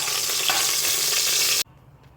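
Bay leaf, cardamom and cinnamon frying in coconut oil for egg biryani, a loud, close, steady sizzle that cuts off abruptly into near silence after about a second and a half.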